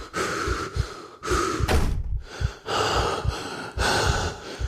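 A character in the horror video game The Last Door breathes heavily, with loud rhythmic gasping inhales and exhales that repeat about every second, close and prominent, with no talking.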